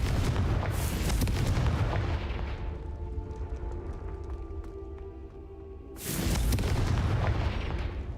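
Two heavy booming blasts from the Confringo explosion spell in the Hogwarts Legacy video game, each with a long rumbling tail, separated by a quieter stretch with faint tonal game sounds.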